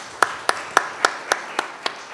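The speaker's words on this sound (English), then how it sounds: "would y'all give her a round of applause" Applause for a newly appointed board secretary at a community voting event in Athens, heard as eight evenly spaced sharp claps, fairly close, with no talking.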